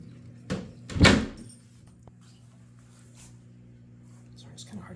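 Homemade wooden cabinet doors held shut by magnets are opened and closed, giving two sharp knocks close by, then quiet handling with a faint hum and a small click near the end.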